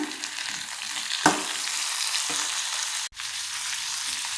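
Tomatoes frying in a pan for onion tomato chutney, giving a bright, continuous sizzle at close range, with a sharp scrape near the start and a brief clatter later.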